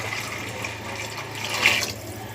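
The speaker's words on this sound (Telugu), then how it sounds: "వాటర్ పోసుకోవాలి." Water pours steadily into a cooking pan holding tomatoes and other ingredients, a close, continuous splashing gush that swells briefly near the end, over a low background hum, with no talking.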